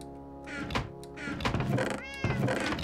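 A cat meows in a video game, several short calls with a dull thunk in between, close and clear with no talk over them.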